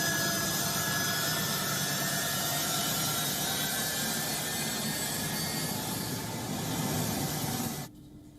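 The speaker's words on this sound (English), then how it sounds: "On your screen is the moment when one of these American planes took off" An American military plane takes off, a loud, steady jet engine roar with broadband rushing noise that holds for several seconds, then cuts off abruptly.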